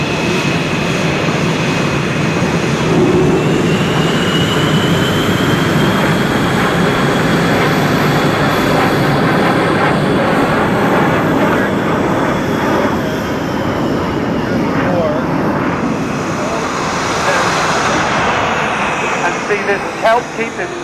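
A CT-133 Red Knight jet sweeps past in a topside pass at an airshow in London, its loud engine roar swelling and rising in pitch, then slowly fading away, with crowd and commentary noise underneath.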